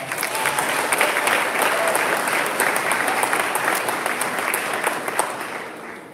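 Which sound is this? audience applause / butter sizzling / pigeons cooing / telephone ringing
audience applause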